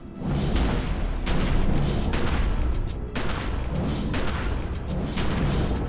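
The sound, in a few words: shotgun fire in the video game The Secret World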